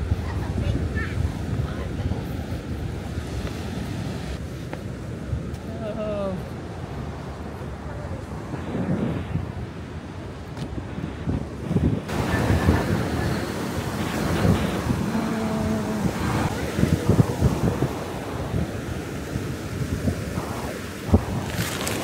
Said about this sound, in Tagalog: Tignan mo ang lakas ng wave.